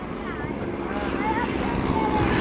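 WWI replica biplanes, a Royal Aircraft Factory BE2 escorted by SE-5As with two Fokker Dr.1 triplanes, fly overhead at an airshow with a steady, droning propeller-engine buzz carrying over a commentator's voice.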